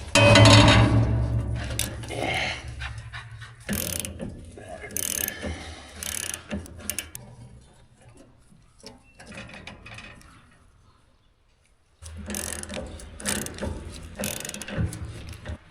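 A loose, sagging apron chain runs on a farm machine, rattling and clanking mechanically in bursts, going quiet in the middle, then starting up again loudly near the end.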